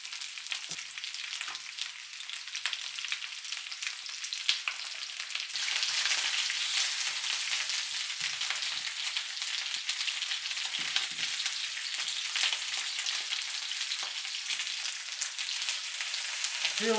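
Spare ribs fry in oil in a pan, a loud, continuous hissing sizzle that swells a little partway through and keeps going steadily to the end, with no voices over it.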